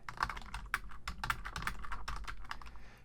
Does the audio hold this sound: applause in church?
no